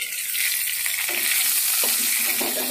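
Potatoes frying in a pan, a constant bright crackling sizzle close up, with a couple of soft stirring knocks underneath.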